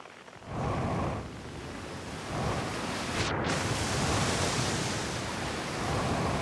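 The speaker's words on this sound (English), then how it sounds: "Secret cave behind the waterfall." Waterfall rushing in the space game Outer Wilds, a steady broad roar that holds loud and even throughout with no talk over it.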